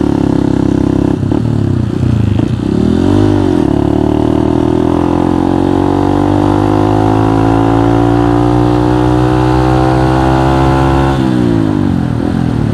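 A trail motorcycle with a gold shock absorber revs steadily while riding, its engine note rising and falling in long sweeping pitch glides, loud and close throughout with no talk.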